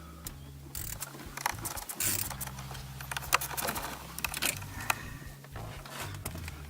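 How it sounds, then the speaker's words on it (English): A screwdriver works T20 Torx screws free on a VW Polo 6R head unit, producing close, repeated ratcheting clicks and small metallic mechanism sounds over a low steady hum. "And now we have to undo 4 torque screws, 2 on each side."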